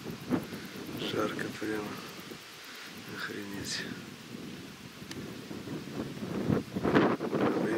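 Wind rushes over the microphone in a hot flowering steppe in the Saratov region, a steady buffeting roar throughout, with someone speaking briefly over it.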